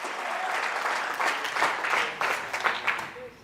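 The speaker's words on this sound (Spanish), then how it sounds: "Fuerte ese aplauso a nuestro Dios." A church congregation applauds during a sermon, giving a steady wash of clapping with a few louder swells, heard at moderate distance.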